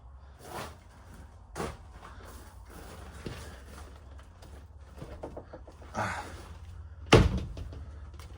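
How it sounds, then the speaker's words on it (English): Doors swinging open inside an abandoned house, with a few scattered thuds and knocks spread over several seconds in a quiet room, the loudest bang near the end. "All the doors are coming open."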